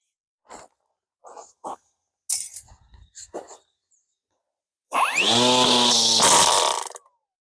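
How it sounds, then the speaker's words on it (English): A gas-powered weed whacker cuts down comfrey in a garden, starting abruptly and running as a loud, steady, close two-stroke whine for about two seconds before cutting out, after a few short bumps and handling noises. "To make my life simpler, I'm going to use a weed whacker for the comfrey."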